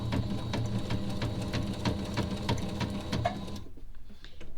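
A sewing machine stitching the edge of a baby bib with Velcro, a close, steady rapid mechanical whir with needle clatter that stops abruptly near the end.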